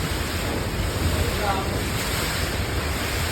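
Typhoon floodwater at high tide lapping beside a house while strong wind blows. The roar is loud, continuous and broadband, with wind buffeting the microphone.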